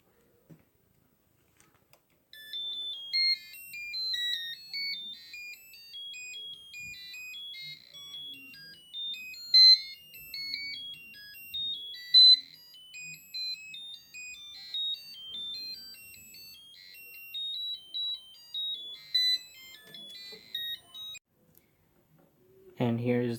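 A small electronic buzzer driven by a shift register circuit plays a rapid string of random beeping pitches, steady and fairly clear for about twenty seconds, with a brief voice at the very end.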